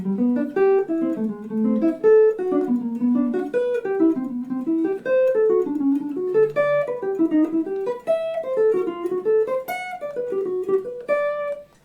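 Guitar plays a melodic line through every chord type of a harmonized major scale, a steady run of clean single notes moving up and down, played alone and fairly loud without pause.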